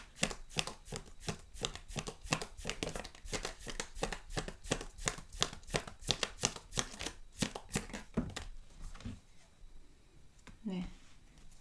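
Tarot cards shuffled by hand in a rapid, steady stream of close, papery slaps and flicks that lasts most of the stretch, then gives way to a brief quiet with a few soft handling sounds.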